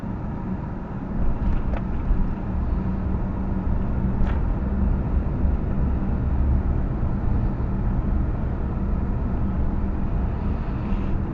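Interior of a Mercedes W126 driving through a neighborhood, with a steady low engine and road rumble continuing throughout and a few faint clicks above it.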